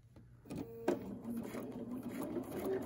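A quilting sewing machine runs a few short stitches at the start of a seam, a soft mechanical whir rising after a click, quiet and close, with no voice over it.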